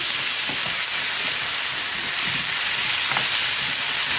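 Small onions sautéing in a pan on a stove, giving a steady, close sizzling hiss throughout with a few soft stirring scrapes, no voices.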